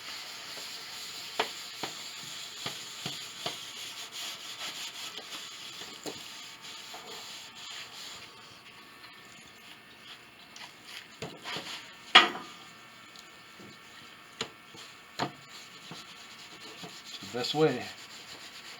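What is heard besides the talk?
rubbing first coat of finish into wood of an 1867 Chickering piano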